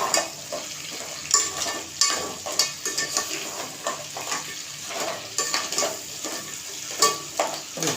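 Ground masala paste frying in oil over medium heat for a spicy village-style crab curry, a continuous sizzle punctuated by rhythmic spatula scrapes and knocks against the pan.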